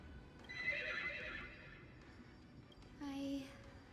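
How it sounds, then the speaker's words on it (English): A horse whinnies in the Honkai: Star Rail video game, one bright neigh near the start and a second shorter, higher whinny toward the end, clear over a low background hum. "the horse was making that noise"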